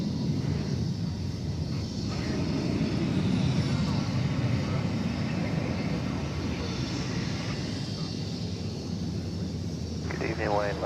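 Steady roar of jet aircraft at Dallas Fort Worth Airport during an evening plane-spotting session, a broad continuous engine rumble filling the whole stretch, with radio voices faintly beneath.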